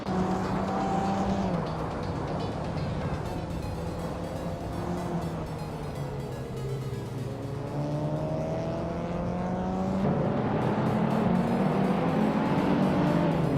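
Several race cars roar through a video game race, their engines holding a steady drone that shifts pitch and climbs as they overtake one another, loud and continuous from start to finish.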